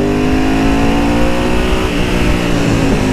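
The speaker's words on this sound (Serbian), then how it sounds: "Poželjno je da zaleti motor" A motorcycle accelerating before a brake test, a loud close engine roar with a sustained harmonic whine that rises and shifts in pitch over a few seconds, no voices.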